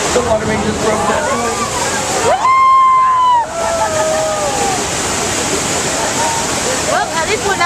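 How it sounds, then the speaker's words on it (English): Water gushing from a broken water main in a theme park earthquake set fills the scene with a loud, continuous rushing roar, while people talk and exclaim over it. "The water main just broke down."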